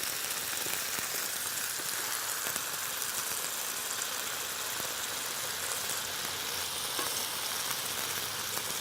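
Steady crackling sizzle of food in a very hot serving container with fire in it, a continuous hiss with scattered pops, moderately quiet and with no voices.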